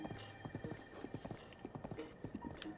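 Horse hooves clip-clop in a steady trotting rhythm on a road in the video game Breath of the Wild, fairly quiet over constant ambient background sound.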